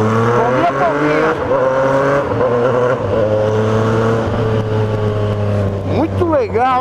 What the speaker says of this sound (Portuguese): É uma Yamaha 3 cilindros, se eu não me engano, 850 cilindradas.